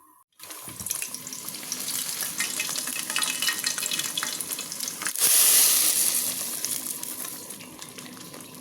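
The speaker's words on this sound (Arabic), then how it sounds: "بعمل فصين توم كده في شوية زيت وبحطهم زي الطشة كده على العدس من فوق" Two garlic cloves frying in a little oil for a lentil soup topping, a steady close hiss that swells louder midway, with a brief tap-water-like rush blended in and no voices.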